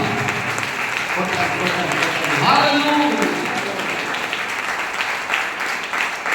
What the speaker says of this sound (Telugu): చప్పట్లు కొడుతూ దేవునికి స్తుతులు చెల్లిద్దాం